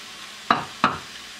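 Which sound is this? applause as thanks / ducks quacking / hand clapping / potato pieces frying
potato pieces frying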